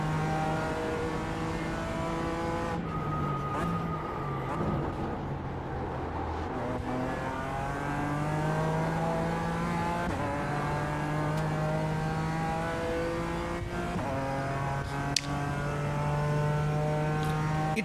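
A Toyota GR86 races around the Mugello circuit in a racing game, its engine revving up through the gears with rising whines, shift breaks and steady close-up drone.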